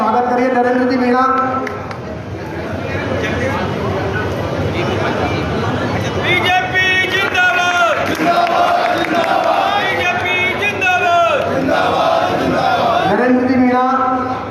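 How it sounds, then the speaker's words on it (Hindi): A packed crowd claps and cheers at the opening of a BJP candidate's election office in Gangapur City, welcoming a new party member. The loud, dense roar runs unbroken throughout, with raised voices and chant-like shouts rising above it. "जोरदार ताली की करतल ध्वनि से इनका स्वागत करिए।"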